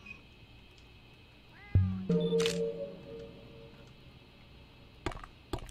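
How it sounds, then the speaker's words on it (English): Feral cats in a cyberpunk ghost-story video game mew a few times near a doorway, with a sharp click and thuds between the calls over a steady electronic hum. "There are feral cats seemingly guarding the door."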